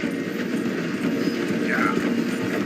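Horses gallop with a steady clip-clop beside a moving train in Red Dead Redemption 2, hooves drumming close over a continuous rumble of rail noise, with voices talking over it.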